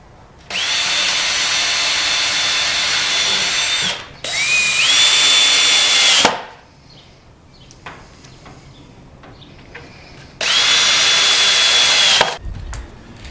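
A power drill boring pilot holes and driving 1.25-inch screws into pine boards, three loud close bursts of whining motor with rising pitch as each screw seats, separated by brief quiet pauses with faint handling clatter.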